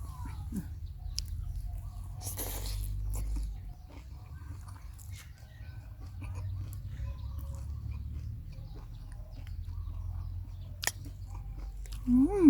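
Someone chewing a Thai salad of neem flowers with minced pork, glass noodles and meatballs, heard as close, continuous wet mastication with occasional crunchy bites, with faint background noise and no talking.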